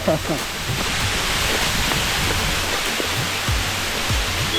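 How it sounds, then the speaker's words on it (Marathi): Heavy monsoon rain at Varandha Ghat in the Western Ghats, a loud, dense wash of falling water, steady and close, with someone talking over it. "वरण घाटात आता भयानक पाऊस चालू झाला आहे"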